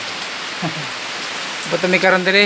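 Steady rain falls throughout, a continuous broadband hiss of drops on a surface, with people talking and calling out over it toward the end.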